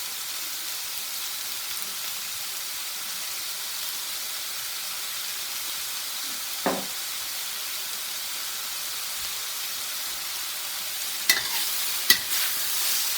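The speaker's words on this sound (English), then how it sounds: "Cook those onions, sweat them down." Steady sizzling and hissing from onions frying in a pan, with a few brief clinks and scrapes of stirring.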